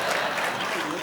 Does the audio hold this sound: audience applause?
yes